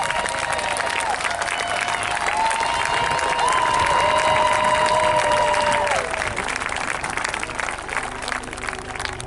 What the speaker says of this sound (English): let's give a big round of applause once again